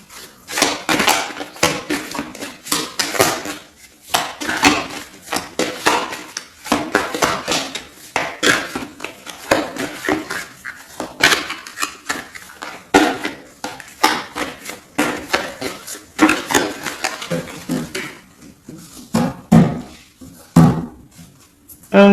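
A tarot card deck being cut and shuffled, giving a long run of crisp, close riffling and tapping bursts that come in irregular clusters with short pauses, with no voices.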